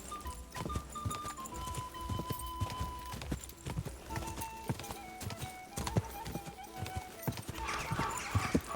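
Rapid hoofbeats in the video game Kingdom Come: Deliverance II clatter in a quick, uneven rhythm, a horse galloping nonstop, with faint tonal background sounds mixed in.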